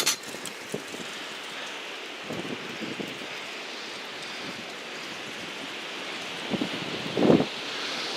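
Strong wind gusting outdoors ahead of a storm, a broad steady rush with rustling and buffeting against the microphone and a louder thump near the end.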